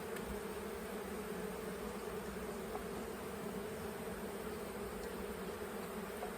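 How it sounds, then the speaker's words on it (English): A swarm of honeybees near small nuc boxes hums in a thick, unbroken drone, steady and close throughout, with no voices. "take them to get these bees, these 2 boxes"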